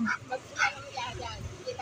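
A dog barks in short yipping bursts, close by and excited, as a person speaks over it.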